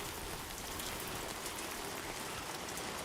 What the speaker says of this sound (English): I also didn't know I'd be dealing with a butt ton of rain.